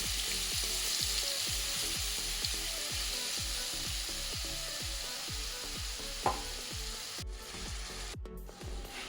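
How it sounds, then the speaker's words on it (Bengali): Chicken fries in regular oil in a pan over medium heat, giving a steady, close sizzle that runs through the whole stretch. Soft, regular low thumps repeat beneath it, and there is no talking. "তারপর আমি প্যানে দিয়ে দিলাম রেগুলার তেল, দিয়ে তার মধ্যে দিয়ে দিলাম চিকেনগুলো।"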